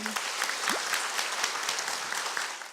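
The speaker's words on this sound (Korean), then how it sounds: "여러분 박수로 청해 보겠습니다" An audience at a public lecture in a citizens' academy applauds warmly, a dense, even spread of clapping heard from within the room, with a brief voice near the start.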